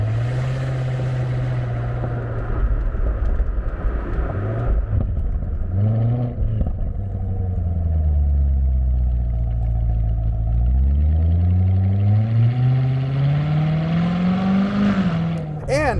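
Engine of a C7 Corvette Z06 while driving, loud and close, its pitch rising and falling through revs and gear changes, with speech partly over it.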